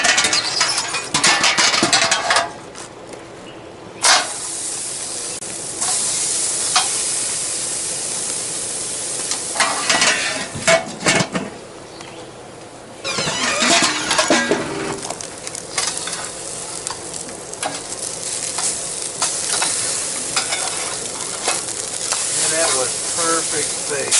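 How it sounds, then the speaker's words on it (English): Steaks and baked potatoes cook on a Weber grill, giving off a steady sizzle and hiss interrupted by occasional clanks and scraping of cooking tools. A voice talks faintly at times. "now we're placing a couple baked potatoes on there, and we're also going to have some steaks that'll be on there"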